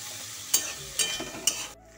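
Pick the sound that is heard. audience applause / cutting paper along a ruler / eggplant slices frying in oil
eggplant slices frying in oil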